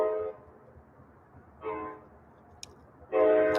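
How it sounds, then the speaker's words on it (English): A loud train passes with repeated bursts of its horn sounding in separated blasts, with quieter rumble and a brief click between them. "Loud train."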